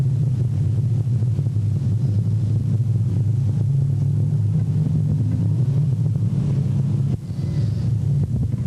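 A field of race cars rolls around the track before the start, heard as a steady, dense low engine rumble with wind buffeting, continuous and fairly loud with no talk.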